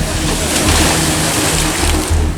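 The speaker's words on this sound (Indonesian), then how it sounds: "Dari pagi sampai siang ini malah siang-siang malah tambah besar ombaknya, gelombangnya." Large sea waves pound the shore at a fishermen's settlement in Tuban, a loud, continuous rushing roar with a deep low rumble and no clear breaks.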